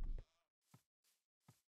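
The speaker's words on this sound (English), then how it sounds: "I've never seen these in Minecraft. Goats?" Minecraft goats bleating in the game world: three short, separate bleats spaced evenly after an opening burst of game noise, each bleat brief and moderately close, with no talk over them.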